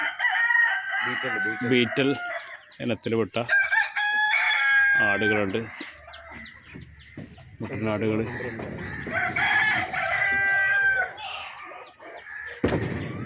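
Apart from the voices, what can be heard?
roosters crowing on a farm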